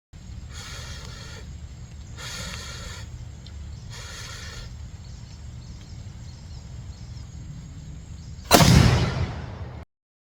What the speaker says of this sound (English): let's load this baby up and shoot some pork ribs